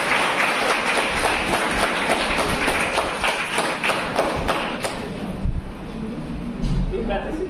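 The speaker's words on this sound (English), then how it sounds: "And I think it deserves a clap." Audience clapping at a college farewell party for the PG English department, a dense, steady round of applause filling the room for several seconds before thinning out toward the end.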